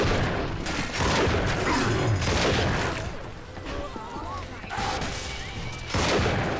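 Shotgun gunfire in the BioShock 2 video game, dense booming blasts and bursts of combat noise mixed with clanking mechanisms, loud and near, with a voice talking over parts of it.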